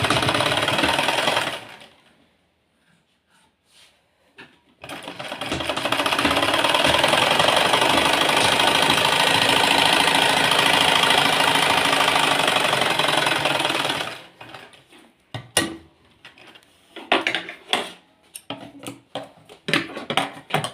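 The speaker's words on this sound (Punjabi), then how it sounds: "ਹੁਣ ਆਪਾਂ ਇਹਨੂੰ ਸਲਾਈ ਪਹਿਲਾਂ ਲਗਾ ਲਾਂਗੇ" A sewing machine stitching a sleeve onto a garment runs loud and close in a long steady mechanical whir, then stops and restarts in short irregular bursts of stitching, with no talking over it.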